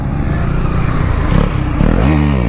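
A motorcycle engine revs hard and close during a wheelie on a group ride, a rough continuous roar that rises in pitch toward the end.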